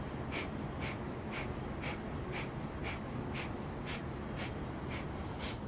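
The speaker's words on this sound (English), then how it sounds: "then you'll do breath of fire" Rapid yoga breath of fire, quick sharp nasal exhalations in an even rhythm of about two per second, close and steady over a continuous background hiss.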